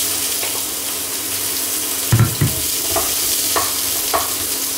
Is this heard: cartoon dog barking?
no